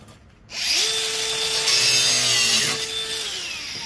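A power tool cuts through the screws on a scrapped electric motor, starting after a brief silence and holding a steady, loud, close whine with a slight pitch shift near the end.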